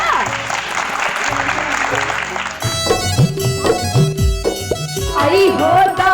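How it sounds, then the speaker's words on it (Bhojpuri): Dense audience applause at a folk music stage show, loud and steady for about two and a half seconds before singing and instruments take over. "तो ताली हो जा"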